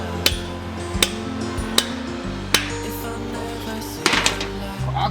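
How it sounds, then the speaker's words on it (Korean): Sharp hammer blows drive 20mm anchor bolts into concrete while a building base plate is fixed, about six distinct strikes at uneven intervals with a short cluster near the end, over a steady background hum. "망치를 사용해 20mm 외지 앙카를 박아주고"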